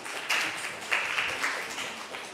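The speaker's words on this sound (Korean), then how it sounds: "큰 박수 부탁드립니다." A church youth congregation at a Sunday service claps in a short round of applause, moderate clapping with a few louder swells, fairly close and without speech.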